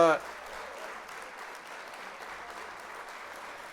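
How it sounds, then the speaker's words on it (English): A short applause sound effect plays on a livestream subscription alert, a thin, steady patter of clapping that starts right after a brief chime and runs on quietly and evenly. "With the little applause there."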